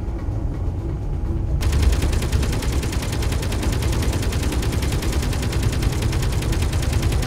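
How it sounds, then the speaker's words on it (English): Sustained rapid automatic gunfire in the Space Engineers video game, a dense, loud rattling barrage that cuts in sharply and continues unbroken at close range, with no voices. "firing coming in on the port side"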